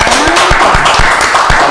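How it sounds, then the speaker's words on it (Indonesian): Audience applause at a Muhammadiyah anniversary gathering in Tuban, a steady dense wash of clapping with some talk mixed in, loud and close throughout. "kita tepuk tangan dulu ya"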